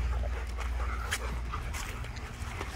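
Many Rottweilers feeding together on a cow carcass, heard up close as panting, whimpers and wet chewing and snuffling sounds, with a few yips scattered throughout.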